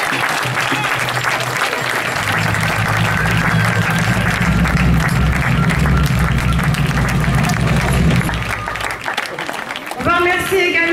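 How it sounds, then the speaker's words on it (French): Audience applause at a medieval festival in Lévie, dense sustained clapping and crowd noise for several seconds, then fading as a voice begins speaking. "Je voudrais qu'on l'applaudisse"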